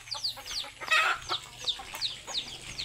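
A hen clucks in a steady run of short, repeated calls, close and fairly loud, with no talking over it.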